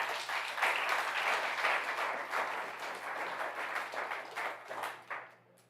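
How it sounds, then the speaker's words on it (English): Warm applause from an audience at a clean-car standards anniversary celebration in California, a sustained crowd clapping that swells early and gradually thins toward the end. "I think that deserves a round of applause."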